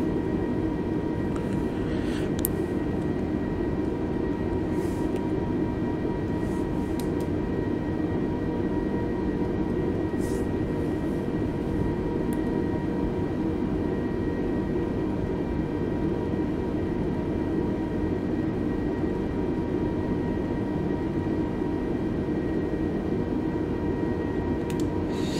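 Jet engines of a Spirit Airlines airliner on the runway at Atlantic City in Microsoft Flight Simulator, a steady, even, low roaring drone with a faint whine on top that holds throughout without change.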